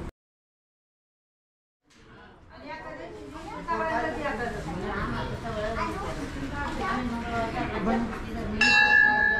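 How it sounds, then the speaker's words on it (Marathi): A temple bell at a Hindu temple in Hinjewadi, Pune, is rung by hand after a brief silence, its bright ringing tones layered under continuous talk and bustle from visitors, ending in a sharper high clang. "हे घंटा आपल्या हाताने वाजत"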